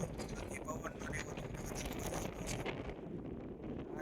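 Strong wind buffets a microphone outdoors at the Dholera International Airport site, a loud, rough continuous rumble that eases slightly toward the end, with a voice faintly under it.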